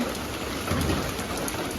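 Steady rain pours down on a rural homestead on a wet day, a dense, even hiss filling the whole stretch with no voices and no breaks.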